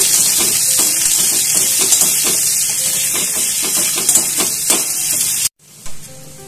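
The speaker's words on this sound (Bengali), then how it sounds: "এবার আমি তেলের মধ্যে পেঁয়াজ, ভালো করে ভেজে নিচ্ছি।" Onions sizzle and spit steadily in hot mustard oil in a wok, giving a loud, bright crackling hiss with small irregular pops, which cuts off abruptly near the end.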